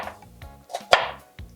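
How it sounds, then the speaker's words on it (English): A knife taps against a cutting board a few separate times while finely chopping an onion, the sharp strikes spaced irregularly, close and clear with a crisp loudest knock near the middle. "using the tip of your knife, cut like this"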